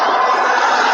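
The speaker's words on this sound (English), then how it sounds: "the crowd are loving this" A large cricket stadium crowd at a BPL 2017 match roars loudly and continuously in a dense, sustained wash of cheering.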